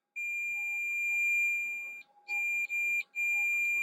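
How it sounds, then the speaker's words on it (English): Steady electronic beeping from a continuity tester while checking the connection to the fourth leg of a chip during an X Station ODE installation, a long close tone that breaks into several shorter beeps. "So now it's beeping."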